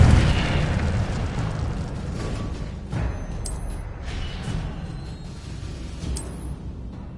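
Incendio fire spell bursts in the Hogwarts Legacy video game, a roaring, rumbling blast of flame with whooshing bursts and brief bright crackles, loud and continuous throughout.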